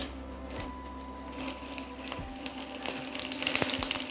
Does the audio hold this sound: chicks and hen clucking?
no